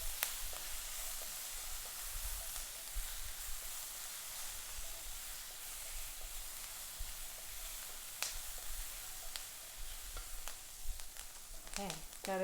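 Onions sizzle and brown in a hot pan, a steady low frying hiss with occasional stirring scrapes and clicks running throughout, close and even.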